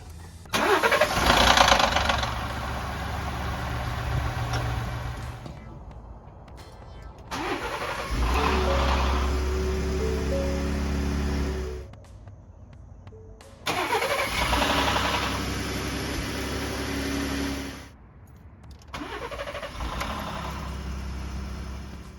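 A Ford F-150 with the 3.5L EcoBoost engine, reprogrammed as part of a cam phaser repair, starting up several times, each time a loud crank and catch settling into an idle, then shutting off, separated by short silences.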